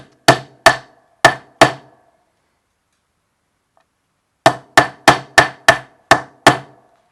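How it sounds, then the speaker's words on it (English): Sharp hammer strikes on a metal eyelet setting tool: four quick blows, a pause, then a steady run of eight more, loud and close. "place the tool with the rounded end into the eyelet, which you then bash with your hammer"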